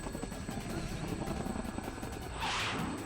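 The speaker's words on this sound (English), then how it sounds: "the helicopter made a sharp turn and we're all thrown to the side" A helicopter in the Persona 4 Arena Ultimax game beats with a steady rotor thrum and engine roar, then swells briefly with a whooshing rush as it banks sharply.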